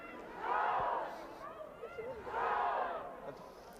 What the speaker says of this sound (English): we can actually hear the crowd here